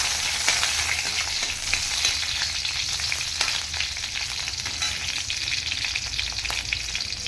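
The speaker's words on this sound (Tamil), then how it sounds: "பூண்டு, மிளகாய் சேர்த்துட்டு வதக்கலாம்" Garlic and chillies fry in hot oil in a kadai, giving a loud, dense, continuous sizzle with faint scraping stirs underneath throughout.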